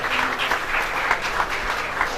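Dense, steady applause from an audience at a ration kit distribution event, a continuous wash of many hands clapping with no voices standing out.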